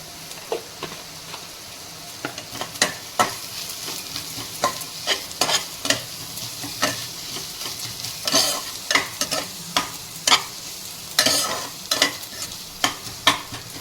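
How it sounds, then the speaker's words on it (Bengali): Spices and red chilli fry with onions in a pan for a mug dal kachori and potato curry meal, sizzling steadily while a utensil scrapes and stirs in repeated sharp strokes, close and loud, with no voices. "মশলাটা একটু ভাজা ভাজা হবে"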